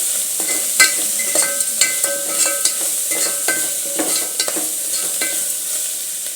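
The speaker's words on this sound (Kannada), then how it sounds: "ಧನಿಯಾ ಪುಡಿ ಹಾಕ್ಕೊಂಡು ಚೆನ್ನಾಗಿ ಇವಾಗ ಫ್ರೈ ಆಗಿದೆ." Coriander powder and spices fry for jeera rice with a loud, close, continuous sizzle. Scattered scraping and clinking of a stirring utensil sound throughout, and no one talks.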